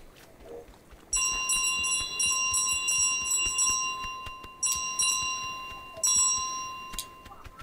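A pile of small bells jingles and rings in Untitled Goose Game, bright repeated chiming in bursts over a steady high tone, with short pauses between clusters and a soft rustling bed underneath.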